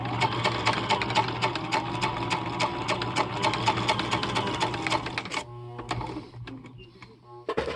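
Husqvarna Viking 6440 sewing machine in reduction gearing mode stitching through four layers of thick nylon webbing, a loud steady rapid needle chatter for about five seconds, then slowing into sparser clicks and mechanical knocks.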